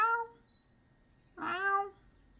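Two drawn-out meows, one at the start and a louder one near the end with a pause between, made by a person's voice imitating a cat, heard close and alone.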